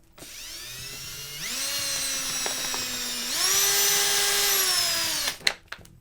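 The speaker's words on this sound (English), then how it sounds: "I brought out my drill here" A power drill whines steadily as it drills into a DVD case, its pitch rising as the motor spins up under load, then cuts off with a few sharp knocks at the end.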